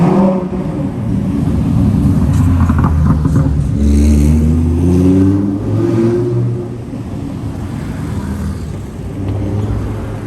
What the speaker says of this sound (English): I had to let these cars go by because they were pretty loud